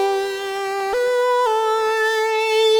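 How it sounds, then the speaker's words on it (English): Dry Synth Master patch with no effects, an analog-style tone: a sustained harmonic-rich note steps up in pitch twice, clear and upfront with no speech. "Already really cool, like it's almost like it's an analog synth."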